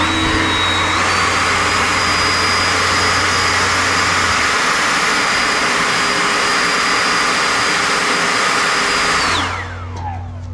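Ryobi 40V HP brushless Whisper Series jet fan leaf blower running on turbo, a loud steady whooshing roar with a high whine that holds for about nine seconds, then winds down quickly as the motor stops.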